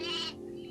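A single sheep bleat is heard in the video game Black Desert Online, short and fairly faint, fading into quiet background tones.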